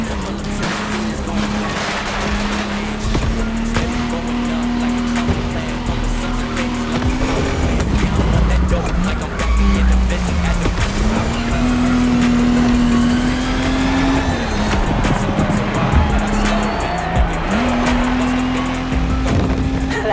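Race cars in the Donk vs Lowrider driving game roar continuously, engines holding a steady droning note that dips and climbs with gear changes, while tires squeal and skid through corners, loud and close throughout with no talking.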